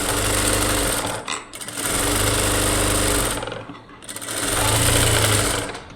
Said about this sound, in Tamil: இந்த மாதிரி ஒரு தையல் போட்டுடுங்க